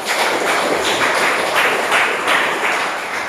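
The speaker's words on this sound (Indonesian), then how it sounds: "Tepuk tangan dulu buat semuanya." A classroom of students claps together in applause after an experiment, a dense, steady wash of many hands with rhythmic swells, close and fairly loud, with no talking.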